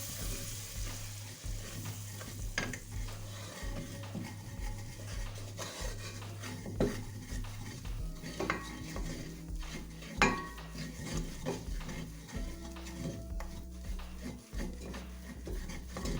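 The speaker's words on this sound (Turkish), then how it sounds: "Şöyle bir su bardağı unumuz var. Böyle karıştırıyoruz." A glass of flour stirred in a pan with a utensil, giving a steady, close scraping and light sizzling texture with occasional clinks against the pan, and no talking.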